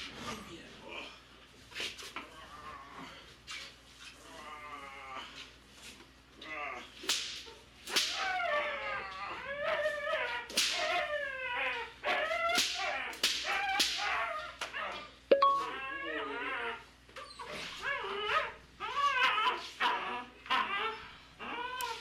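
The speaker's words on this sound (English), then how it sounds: "I'm cracking the whip while he's holding on to it" During bite-building tug training, a whip cracks in repeated loud, sharp snaps while a dog hangs onto a tug and makes noisy yips and whimpers, with bursts of talk at the start and end.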